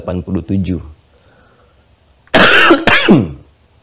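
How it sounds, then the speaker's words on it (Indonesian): Someone speaking at a Ramadan religious lecture breaks off with a loud, harsh throat clearing and cough right at the microphone, following a brief stretch of speech and a pause. "Saya sudah minta izin di awal ya untuk diselingi dengan batuk."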